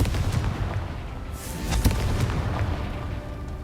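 A Confringo blast spell fires in the Hogwarts Legacy video game, a loud booming burst with a sharp bang near the middle, set against dense rumbling game combat noise.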